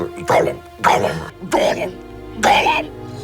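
A voice imitates a cat convulsing as it coughs up a fur ball, voiced for the creature sounds of The Lord of the Rings: The Return of the King video game: four loud, rasping, throaty hacking bursts in steady succession, close up.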